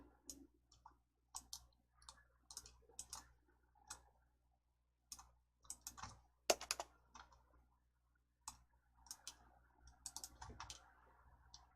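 Computer keyboard keys and mouse buttons click while an Excel spreadsheet is saved, in irregular bursts of crisp taps separated by short pauses, close and fairly quiet with no talking.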